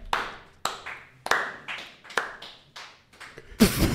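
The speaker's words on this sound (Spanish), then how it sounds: "son los peores aplausos que he escuchado" A handful of people clap weakly and unevenly, about eight separate, distinct claps with gaps between them, close and sparse, followed by a burst of voices talking at the end.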